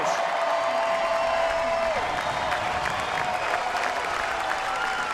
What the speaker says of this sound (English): a standing room only crowd gives a full-throated roar